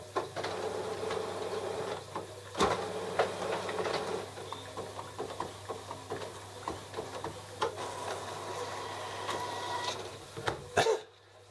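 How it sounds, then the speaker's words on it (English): An Epson WF-7720 printer fitted with a continuous ink system prints a nozzle check pattern, giving off quiet mechanical whirring with repeated soft ticks and clicks and a sharper clatter near the end. "Print nozzle check, print the pattern"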